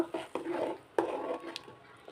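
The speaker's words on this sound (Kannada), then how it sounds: "ಡ್ರೈ ಫ್ರೂಟ್ಸು ಫ್ರೈ ಮಾಡ್ಕೊಂಡಿದ್ವಲ್ಲ ಅದನ್ನು ಇದಕ್ಕೆ ಆ್ಯಡ್ ಮಾಡ್ಕೊತಾ ಇದ್ದೀನಿ. ಎಲ್ಲ ಮಿಕ್ಸ್ ಮಾಡ್ಕೊಳ್ಳೋಣ." Fried dry fruits are stirred into sweet vermicelli payasam in a pot, giving soft scraping and clinking spoon strokes with a few sharper taps, close and fairly quiet.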